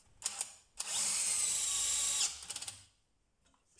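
DeWalt DCD996N cordless drill driving a screw, a few short clicks and bursts, then one sustained high whine for over a second that stops abruptly, followed by quick ratcheting taps and quiet.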